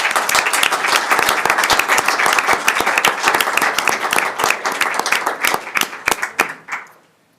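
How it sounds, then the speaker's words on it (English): A round of applause at a school district board meeting, brisk sharp hand claps from a modest group, close and fairly loud, holding steady before thinning out and stopping. "Can we give Mohammed a round of applause"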